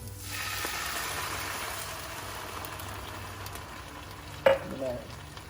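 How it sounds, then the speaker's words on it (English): Half an onion, sliced thin, sautés in a pan with a steady, close sizzle that runs throughout, broken by a brief utensil clatter near the end; no one speaks. "I have a half of an onion sliced thin that I'm gonna saute right now"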